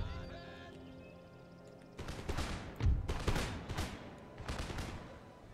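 Infantry musket volleys ring out in Empire Total War, a series of loud ragged crackling fusillades starting after a quieter opening, several bursts overlapping and echoing through the battle.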